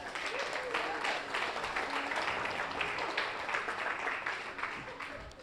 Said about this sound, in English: let's give a thank you and a round of applause to Dr.